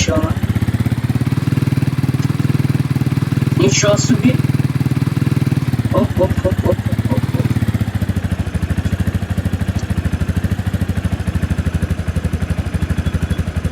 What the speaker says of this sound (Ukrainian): Це мотоцикл внедорожник.